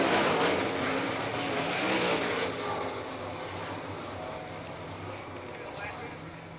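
Sprint cars from the All Star Circuit of Champions roar down the back straightaway at Florida Speedweek in Barberville. The engine drone is loud at first, then eases while a commentator talks over it.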